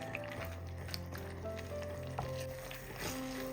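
Ground green gram paste sizzles steadily in hot oil in a pan while being stirred, a soft continuous frying hiss with faint scraping, close and fairly quiet, with no talking.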